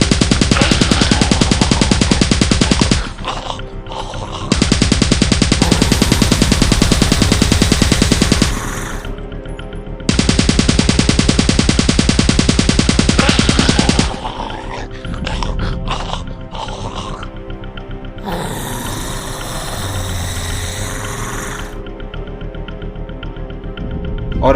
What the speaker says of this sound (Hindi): बाहर खड़ी मिलिट्री की फोर्स बिना कुछ सोचे समझे तुरंत ही फायरिंग शुरू करती है।